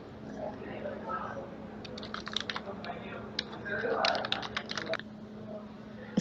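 Typing on a computer keyboard, bursts of quick clicking keystrokes close to the microphone, heard under soft speech and low background hum.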